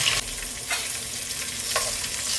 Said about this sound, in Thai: จากนั้นเราก็นำปลาเค็มมาทอดกันต่อได้เลยนะครับ